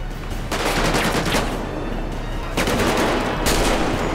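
Gunfire in a GTA 5 zombie mod set at a military fortress: dense, continuous loud shooting from several weapons with bursts that swell and ease, filling the whole stretch without pause.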